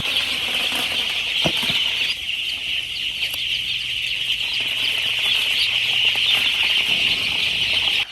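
A dense chorus of many day-old chicks chirping and clucking together indoors in a poultry farm, continuous and loud, with occasional wing flaps and thumps.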